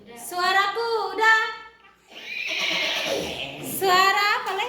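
A child imitates a horse neigh with voice, producing whinnying calls in two bursts separated by a breathy rushing noise, close and fairly loud.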